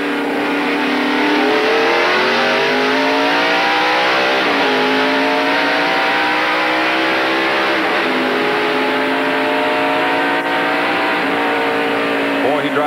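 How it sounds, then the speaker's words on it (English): Jeff Gordon's race car on a restart at the 1993 Splitfire Spark Plug 500, a loud sustained engine roar with rising and falling revs as it accelerates through the gears, continuous and close throughout. "listen to this restart"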